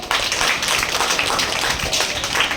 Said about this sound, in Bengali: জোরে হাততালি হোক